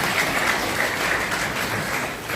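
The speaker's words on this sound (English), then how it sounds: "Please a round of applause." A crowd at an emergency medical services launch event claps in a brief, even round of applause.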